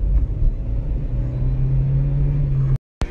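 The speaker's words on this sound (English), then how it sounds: "When you put it on the S, it has full turbo." A supercar engine in sport mode gives a loud, low, steady rumble with a droning hum, then cuts off abruptly for a moment near the end before resuming.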